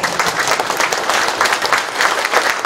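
Loud, sustained applause from a crowd greeting the Icheon mayor at a talk concert marking 100 days in office, the clapping thick and even throughout with no voices on top.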